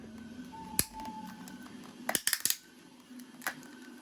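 Ratcheted joints of a 1:9 scale Venom action figure being posed: a few sharp, close clicks, with one single click, then a quick cluster of several, then another lone click, over quiet room tone.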